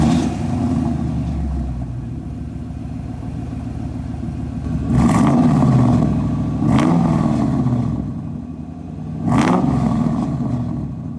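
A 2002 Ford Mustang GT V8 with an H-pipe exhaust rumbles at a steady idle, then blips its throttle in three loud, sharp revs, each swelling and falling back to the idle. No one speaks.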